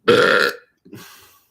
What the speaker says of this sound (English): I'm burping all over the place.